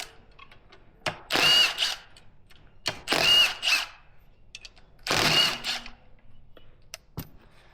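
A power tool zaps bolts out of a Cummins 24-valve engine block, three loud whirring bursts of a few seconds each separated by quiet clicks and handling sounds, with no speech.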